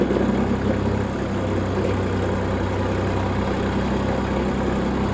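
A Japanese tractor's engine idles at close range on a Bulgarian village livestock farm, a low, steady, constant rumbling drone with no speech over it.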